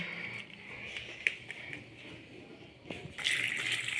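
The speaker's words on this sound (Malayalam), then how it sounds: "അപ്പം കുറച്ച് വെള്ളം അയച്ചു കൊടുക്കുന്നുണ്ട്" Water runs into a pressure cooker holding jackfruit for a rainy-day Kerala dish. The stream is a faint, uneven trickle with a few soft splashes, and it grows fuller and louder toward the end.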